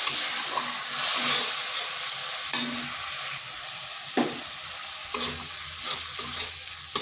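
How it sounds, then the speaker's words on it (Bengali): Spice paste and tomato are sautéed and stirred in a pan for a vegetarian pointed gourd and pumpkin dish: a continuous frying hiss broken by periodic scraping and clattering strokes of the spoon. "এরপর যে মশলাটা করে রেখেছিলাম সেই মশলাটা এই মশলাটার সাথে টমেটোটা একটু কষে নিচ্ছি।"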